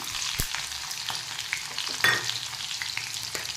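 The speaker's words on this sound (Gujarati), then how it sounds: "તેલ થાય એટલે રાઈ એડ કરી દેવાની રાઈ તતડે" Mustard seeds crackle and pop in hot oil for an ivy gourd relish, a steady sizzle broken by sharp little spits, with no one talking.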